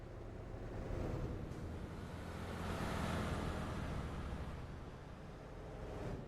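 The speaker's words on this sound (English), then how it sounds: "these are the actual engine sounds from the vehicle files" DAF truck engine in the TruckersMP video game, a steady, faint, low rumbling drone that holds constant throughout with no talking over it.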